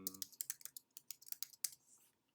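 Keys clack in a quick, uneven run as an answer is typed on a computer keyboard for an online quiz; the taps are close and fairly quiet, then stop.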